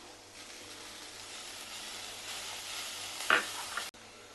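Vegetables and grated paneer momo filling sautéing over a high flame: a steady, fairly quiet sizzle runs throughout, with a brief sharper crackle and a clink of utensil near the end.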